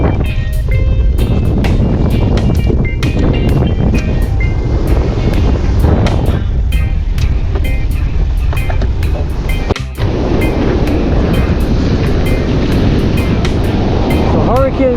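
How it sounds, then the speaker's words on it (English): Strong wind buffets the microphone over rough, crashing surf on a Jamaican beach in hurricane conditions, a loud continuous roar with someone talking intermittently over it. "Yeah man, hurricane conditions."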